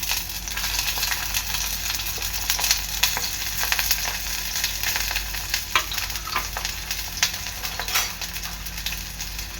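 Onion and chilli frying in a pan, a steady close sizzle with crackling pops throughout, no talking.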